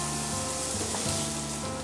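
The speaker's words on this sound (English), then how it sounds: "They've been frying for about 5-10 minutes" Steady, soft sizzling of morel mushrooms frying in a pan, a constant crackle and hiss without pause.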